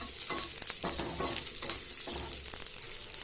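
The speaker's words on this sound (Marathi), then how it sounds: "हा कांदा भाजून घ्या कांदा चांगला लालसर म्हणून तोपर्यंत परतवायचा" Onion browning in about one and a half spoons of oil in a pan, a steady close hiss of frying with soft scraping stirs throughout; no one speaks.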